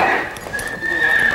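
Horses are heard up close, with a loud, sustained whinny ringing over the clip-clop of hooves and faint background noise.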